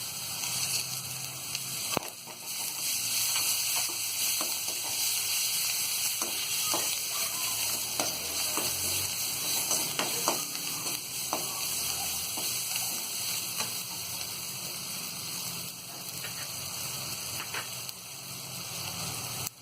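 Poha chivda fries over medium gas with turmeric and fresh green coriander, a dense continuous sizzle heard up close, with light scraping stirs and scattered clicks throughout, no voices.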